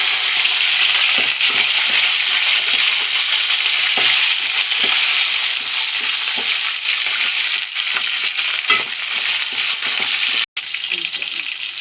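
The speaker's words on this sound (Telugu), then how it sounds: "మినప్పప్పు కరివేపాకు కూడా వేసుకున్నాం మిరపకాయలు" Urad dal, curry leaves and chillies frying in hot oil with peanuts, giving a loud continuous sizzle broken by repeated stirring scrapes and a brief cut near the end.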